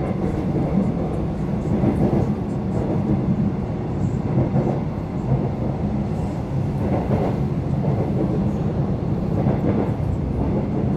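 An EMU900 electric multiple unit train, a ten-car set running as train 1134 to Keelung, rumbles loudly and steadily nearby with a continuous rolling roar and faint rhythmic wheel clatter.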